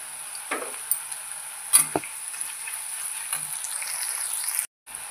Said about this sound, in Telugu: ఇలా బాగా వెల్లుల్లిపాయలు వేగిన తర్వాత కరివేపాకు వేసేసుకోవాలి, ఎండుమిర్చి